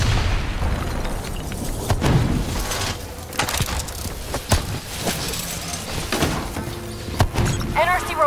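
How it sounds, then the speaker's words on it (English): Rogue robots detonating in Call of Duty: Black Ops 3, with several dull booms and crashes in a dense, noisy battle mix while voices talk over the chaos. "They're about to detonate!"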